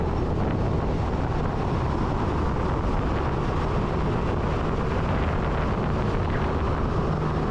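Steady, loud wind rushing past the microphone while riding a Suzuki Burgman motorcycle on a highway, with road and engine rumble blended in and no voices.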